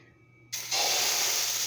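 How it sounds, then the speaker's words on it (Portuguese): Pancake batter hits a hot pan on the stove and a loud, broad sizzling hiss starts suddenly, then swells and holds steady. "quando vocês estão fritando a massa de panqueca"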